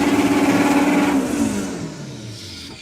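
A Honda front-wheel-drive drag racing car at a European drag racing final, its engine roaring loud and steady with a rising pitch before fading away as the car pulls off into the distance.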